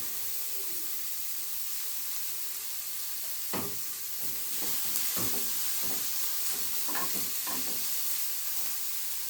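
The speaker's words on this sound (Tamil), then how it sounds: "நம்ம இப்போது இது கூடவே இந்த மல்லி போட்டு லைட்டாக வறுத்துக்கலாம்." Coriander seeds lightly dry-roasting in a pan for chutney, a constant soft sizzle with a few scattered stirring scrapes and taps, close and alone with no talking.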